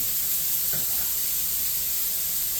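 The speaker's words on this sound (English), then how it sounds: "so there's our garlic and our onions. Let's let them cook up a little bit." Garlic and onions cook in a pan, probably on a small camper stove, giving a steady, even sizzling hiss that holds at one level throughout with no talk.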